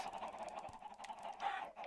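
Chickens on a Minecraft chicken farm cluck in short, repeated bursts, with several overlapping calls close by and a slightly louder squawk near the end, and no one speaking.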